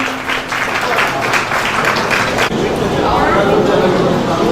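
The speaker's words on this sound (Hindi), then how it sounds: "बहुत सारी तालियां मास्टर मूल के लिए।" Steady crowd clapping greets Master Mool at a stage event in Hyderabad, dense applause filling the first half before fading into a busier murmur of the audience.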